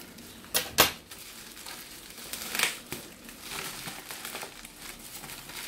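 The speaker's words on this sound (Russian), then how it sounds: "открывать. Обычный черный пакет." Crinkly plastic rustling and crackling in a few sharp bursts as a black plastic mailing bag is opened, close up, with quieter handling noises between them.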